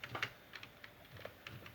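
Quiet, irregular keystrokes on a computer keyboard as text is typed into a design program, with small bursts and pauses between the clicks and no voices.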